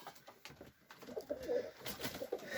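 Tumbler pigeon cooing softly in a series of low, rounded calls, close by, with faint background noise and no talk.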